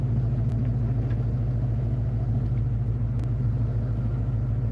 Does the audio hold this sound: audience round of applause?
no